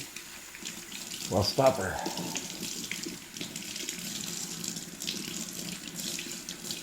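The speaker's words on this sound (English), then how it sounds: "wash my paws" Hands are washed under a running tap, a steady broadband water hiss filling a sink throughout, with a brief louder splash near the start and a short spoken phrase over it.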